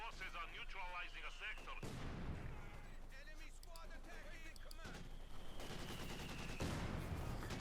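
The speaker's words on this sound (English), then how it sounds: "Mortar fire there, raking through the machine gun crew." Mortar and artillery fire in the Company of Heroes 2 video game, dense overlapping booms and gunfire crackle in a continuous battle din, with sharp transitions between bursts and voices talking over the combat.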